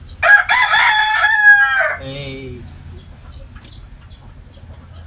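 A rooster crows loudly and close, one long call trailing off, followed by faint scattered clucking from chickens, with a brief word spoken.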